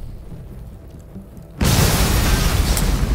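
A big explosion breaching a wall in The Walking Dead: A New Frontier video game erupts suddenly after a quiet, low rumbling stretch, then a loud, dense roar and crackle sustains to the end.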